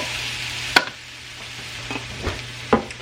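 Food cooks down in a pan on the stove, with a soft steady simmer under a low hum, broken by a few sharp clinks of a utensil against the pan, and no talk.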